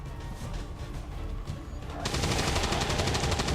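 Rapid automatic gunfire in XCOM 2: War of the Chosen, a dense continuous burst that grows louder and sharper partway through, alone with no voices.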